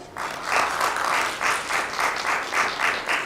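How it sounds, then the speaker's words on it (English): Steady audience applause at a community panel on domestic violence, a dense wash of many hands clapping in rolling surges for about three seconds, fairly close and with no talk over it. "A hand of applause for Da Yang, family mediator"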